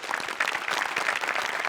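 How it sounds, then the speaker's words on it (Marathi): Studio audience of a Marathi comedy show clapping for a performer, dense rapid applause at close range, continuous and even for the whole stretch. "प्रसादा, अमोल पाटीलसाठी एकदा टाळ्या वाजवल्या पाहिजेत."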